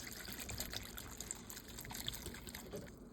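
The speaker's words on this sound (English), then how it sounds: "So let's go ahead and add that 1 cup of water." Water poured into a pot while making homemade cranberry sauce, a steady trickling splash lasting a few seconds, close and fairly quiet.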